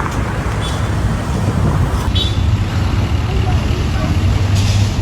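A truck roaring past close by in road traffic, a loud, continuous broadband rumble and rush with a faint hiss toward the end; speech-like sound may be mixed in.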